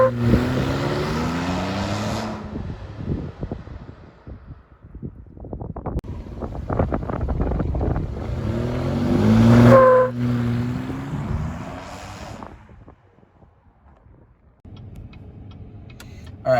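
A Chevrolet ZR2 truck with new 4.56 gears revs its engine up and launches hard, the engine note climbing in stepped harmonic sweeps amid wind buffeting before easing off into quieter road noise.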